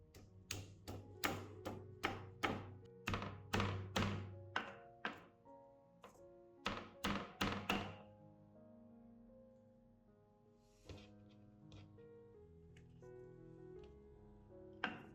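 A series of sharp, hollow thunks in quick rhythmic bursts as four garlic cloves are crushed on a board, followed by a quieter ringing tail.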